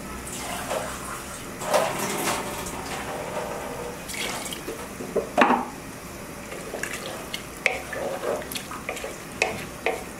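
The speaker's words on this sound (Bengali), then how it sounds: "এখন আমি পানি দিয়ে দেব।" Water poured into a pot of beef tripe bhuna as the spices finish frying down, a steady splashing wash with scattered clinks and drips, close and moderately loud throughout, with no voices.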